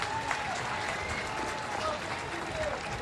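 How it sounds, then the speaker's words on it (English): A baseball crowd at a Nationals vs Cardinals spring training game cheers and applauds steadily for former Cardinal Matt Adams, a broad, continuous roar from the stands with a commentator's voice mixed in underneath. "Big cheer for former Cardinal Matt Adams."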